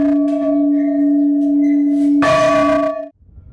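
A cathedral church bell rings during Easter week, its loud sustained tone humming steadily before a second strike swells the sound, then the ringing cuts off near the end.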